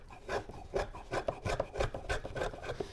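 Knife blade worked hard and fast on a sharpener: rapid repeated rasping strokes, roughly a dozen in quick rhythm, close and moderately quiet, with no talk.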